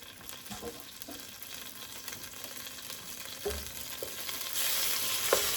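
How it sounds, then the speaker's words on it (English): Butter sizzles and crackles quietly in a pan for French onion soup, with scattered soft pops and stirring scrapes. The frying grows louder and hissier toward the end. "Just getting my butter going here."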